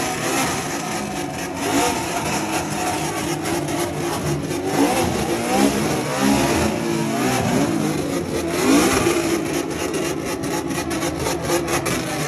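A car engine revs hard and steadily during a burnout contest at an outdoor car show, with a loud continuous roar and crowd noise throughout.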